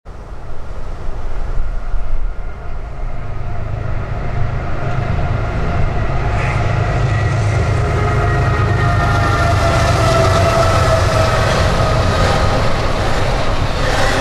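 A huge CSX freight train hauled by four locomotives rolls past close by, a loud continuous rumble of wheels and clattering cars that builds and stays heavy throughout.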